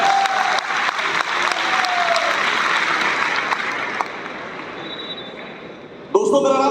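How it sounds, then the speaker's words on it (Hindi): A seminar audience in a New Delhi stadium claps loudly and continuously for about six seconds. The applause then fades, and a voice begins speaking over the end of it. "इनके लिए मैं चाहूंगा जोरदार तालियां हो जाए।"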